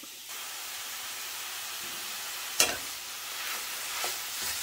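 Sweet sausage sizzles and hisses steadily in a cast iron pan, with a sharp scrape of stirring partway through and softer clinks after.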